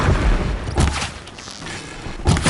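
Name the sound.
enemies shooting at player in video game Horizon Zero Dawn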